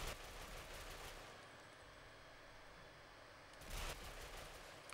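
Sustained full-auto gunfire from a low-recoil weapon in the Ghost Recon Phantoms video game, a steady dense rattle of shots running for several seconds at a fairly even level, alone without talk.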